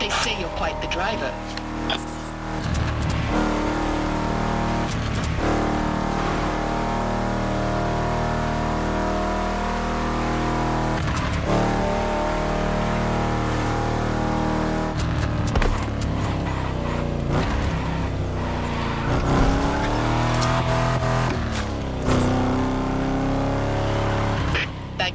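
A Cadillac in The Crew Motorfest drives with a continuous engine drone whose pitch shifts through gear changes and accelerations, while voices talk over it almost throughout.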